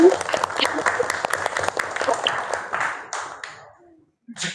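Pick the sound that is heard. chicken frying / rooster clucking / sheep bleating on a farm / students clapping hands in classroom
students clapping hands in classroom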